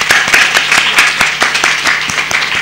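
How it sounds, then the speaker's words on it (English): Audience applause at a talk on human rights: a steady wash of many hands clapping, fairly close and dense, with sharp individual claps standing out throughout and no voices. "So a clap for them."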